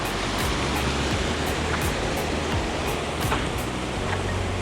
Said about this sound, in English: A little bit of a waterfall here.